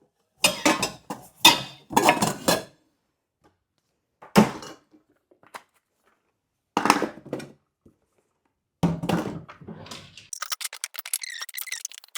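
Dishes, pots and utensils clatter as they are packed into a cardboard moving box, in several separate close bursts of clanking and knocking with quiet pauses between, ending in a run of lighter rattling.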